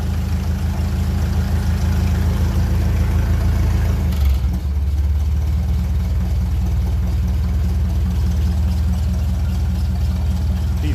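A 1957 Ferguson 35 tractor running on TVO, its engine chugging steadily and loudly at idle nearby, with a brief dip and change in tone partway before settling back into an even drone.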